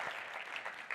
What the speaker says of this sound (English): I would rather have a really good applause or none at all.